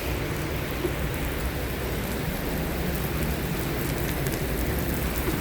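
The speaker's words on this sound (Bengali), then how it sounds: "অনেক জোরে জোরে বৃষ্টি পড়তেছে" Heavy rain pours down outdoors in a steady, dense wash of noise that stays constant throughout, with no voices.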